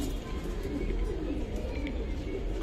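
Silver Giribaz pigeons coo softly and continuously in a kept flock, with a steady low murmur of bird sounds and faint background noise throughout.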